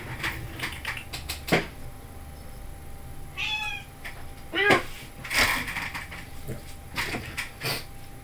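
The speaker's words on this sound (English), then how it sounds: "Cat gets mad." An indoor cat meowing angrily, a couple of short cries among scattered sharp knocks and clicks, heard nearby against a quiet room background.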